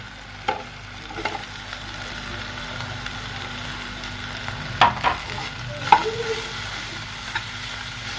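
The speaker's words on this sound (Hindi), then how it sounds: "तो साथ ही हमारे पास जाएगा चिकन, इसमें ये भी फ्राई होगा साथ ही" Chicken frying in a pan with garlic and onions for chicken pasta: a steady, moderate sizzle with occasional louder clinks of a utensil against the pan, no voices.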